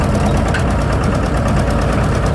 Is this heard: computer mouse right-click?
no